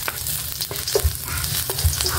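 Ginger frying in a pan to start a sweet and sour sauce for meatballs, a dense, close sizzle with a couple of soft spatula knocks and stirring scrapes.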